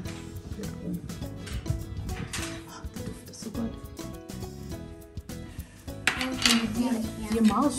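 A baking tray of Christmas cookies goes into the oven amid clattering metal trays and pans and clinking utensils in a home kitchen, with irregular knocks and scrapes while adults and children talk.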